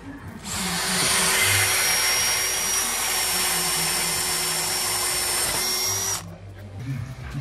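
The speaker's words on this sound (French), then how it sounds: "Après on vient visser." A power drill drives screws into the frame of a glass partition, one continuous high whine lasting about six seconds, close and loud, with faint handling noises before and after.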